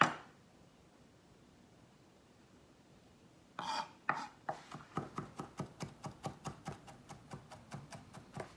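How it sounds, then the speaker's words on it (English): A knife chops garlic on a board: after a few quiet seconds, crisp close strikes begin and settle into a quick, regular rhythm of about two chops per second. "Back to chopping the garlic."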